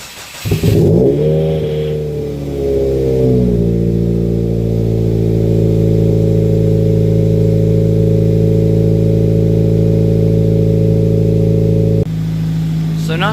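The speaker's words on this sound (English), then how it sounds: "So not super loud for a cold start up." A 2015 Subaru WRX with a catless downpipe and muffler-deleted exhaust cold-starts inside a garage, cranking into a loud rev flare that settles into a steady, droning high idle, then drops slightly near the end.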